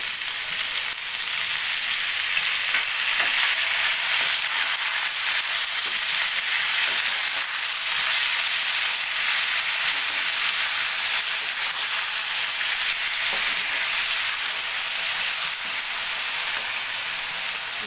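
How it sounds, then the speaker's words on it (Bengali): Onion, garlic and chili paste frying in hot oil in a pan for a dried fish curry with Malabar spinach, a loud, steady, rain-like hiss that carries on evenly with faint occasional stirring, no voices. "পেস্টটাকে অ্যাড করবো পেঁয়াজ রসুন লঙ্কার পেস্টটাকে অ্যাড করে দেবো"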